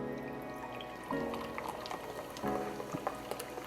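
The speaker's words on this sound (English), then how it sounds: "we're going to go in with 1 cup of Squirt, or you could use 7-Up if you wish" Squirt citrus soda pours into a margarita cocktail, a fizzy, bubbling stream with a couple of distinct splashing pulses, close and moderately quiet.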